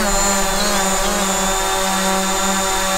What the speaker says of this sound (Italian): E adesso facciamo decollare il drone.